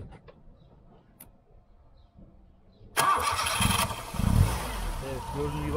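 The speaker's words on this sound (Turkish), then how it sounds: "Onları taktıktan sonra arabanın marşına basacağız." A Tofaş car's starter cranks the engine after ignition timing work, a sudden loud close whirring burst that runs into a rough idle, with brief speech nearby.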